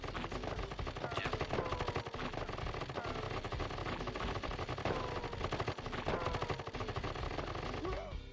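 Rapid, continuous gunfire from units shooting at turrets in the real-time strategy game KKND, a dense rattling stream of shots with no pauses, steady and fairly loud, with a player talking over it.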